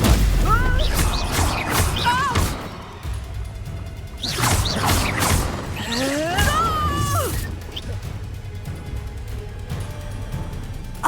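A Stupefy stun spell is cast during a Hogwarts Legacy duel, bursting with sharp booms and whooshing impacts amid loud combat clatter, with voices shouting and speaking over the fight.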